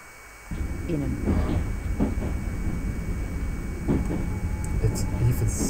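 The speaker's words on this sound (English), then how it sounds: "It even sounds so slow when you are inside the train." A London Underground Northern Line train runs slowly toward Kennington, heard from inside the carriage as a low rumbling rattle with periodic clunks, starting abruptly after a quiet moment, and a voice talks over it at times.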